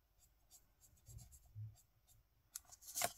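An Ohuhu paper-friendly felt-tip marker glides softly across watercolor paper in quiet intermittent strokes, close and faint, ending with a few brisker scratchy passes.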